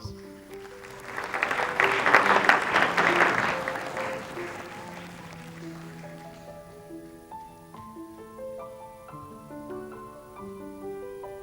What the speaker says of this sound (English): a round of applause to all our contestants for tonight